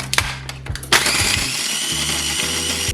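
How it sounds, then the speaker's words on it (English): A food processor grinds five or six Oreo cookies into fine crumbs: a few short rattling pulses, then a loud steady whirring grind close by, with chunks clattering against the blade. "we're gonna go back to our food processor. We're gonna add about 5 or 6 Oreos"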